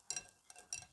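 A spoon stirs a lemon cream mixture in a bowl, giving a few brief scraping, clinking strokes close up in one short burst, without any voice.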